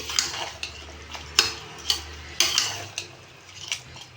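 Vegetables for pulao mixed in a metal pot, a spoon scraping and clinking against the sides in a series of sharp, irregular knocks over a soft background sizzle, close and distinct.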